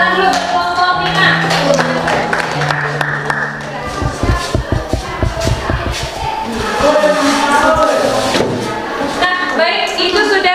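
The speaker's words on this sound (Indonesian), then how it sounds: "saya tepuk tangan dulu kelompok 5" A classroom group claps for a few seconds, a burst of rapid hand claps amid voices and chatter, with talking before and after.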